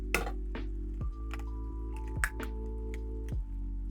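A cracked egg drops into simmering tomato sauce in a pan, giving a few quiet, separate wet plops and squelches over a steady low background hum.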